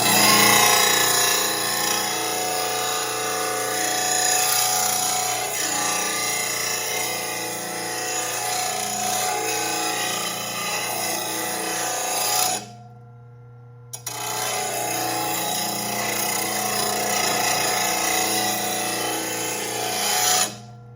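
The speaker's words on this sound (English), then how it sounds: "so the wheel can do a good job of sharpening the edge here" A lawn mower blade is pressed against a grinding wheel for a continuous harsh, gritty rasp, loud and close. It pauses briefly midway, then resumes steadily.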